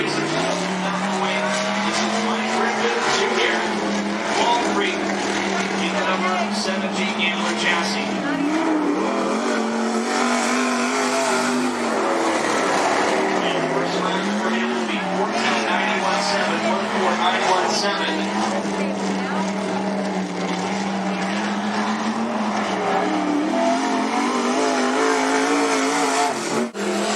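Race cars lap Cottage Grove Speedway with a continuous loud engine roar, revving and tire squeal, while an announcer talks over the noise throughout.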